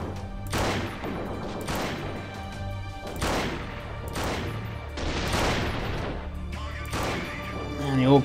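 Gunfire in the Freeman: Guerrilla Warfare game: a steady series of loud rifle shots and volleys, roughly one burst per second, each with a short echoing tail, and a voice speaking briefly at the very end.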